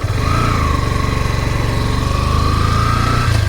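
A motorcycle engine fitted with newly installed L9X fog lights runs steadily on a test ride, a loud, close, continuous drone with no talking over it.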